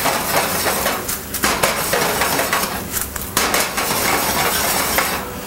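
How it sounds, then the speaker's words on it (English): Baked buffalo wings are tossed and stir-fried in sauce in a pan, with loud, busy metallic scraping and clanking of the utensil against the pan over a steady sizzle. "you just stir fry your wings into the sauce"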